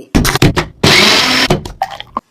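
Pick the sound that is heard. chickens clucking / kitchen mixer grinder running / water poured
kitchen mixer grinder running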